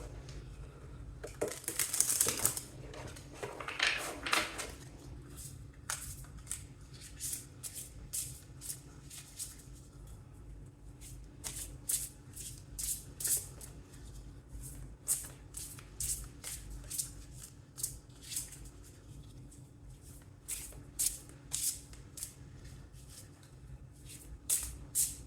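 Tarot cards shuffled by hand during a reading, starting with a loud riffle and then settling into a long run of quick, close flicks and soft slaps of card against card, with no voices.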